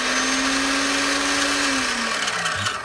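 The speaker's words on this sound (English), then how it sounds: "the SKS Tempest does have a sewing machine motor in it, and it reflects on it when you turn it on" An SKS Tempest key cutting machine with a sewing machine motor whines steadily, a loud high-pitched electric hum with a single sustained tone that winds down and drops in pitch near the end, alone without talk.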